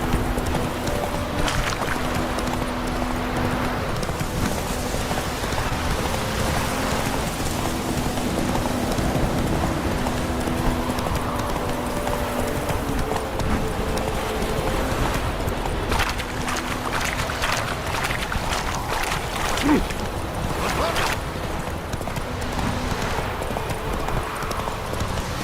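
In The Witcher 3, the horse Roach gallops with rhythmic hoof clip-clops over a steady rain-like wash, with brief sharper thuds later on and no one speaking.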